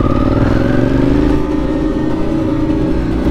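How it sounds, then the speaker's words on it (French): A motorcycle engine runs steadily and loud throughout while a mechanic test-rides the bike, a continuous rumbling drone with a slowly shifting tone and no voices. "Il est en train de faire un test moto"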